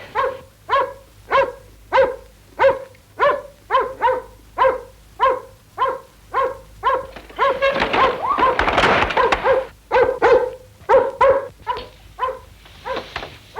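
A dog barks at night in a steady, insistent rhythm of sharp, close barks, about two per second, briefly covered by a burst of rustling scuffle before the barking resumes.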